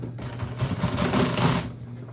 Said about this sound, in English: All I'm doing is just sewing around it.